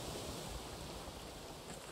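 Ocean water washes and laps around a raft in the video game Raft, a faint, steady surf-like wash with no clear breaks.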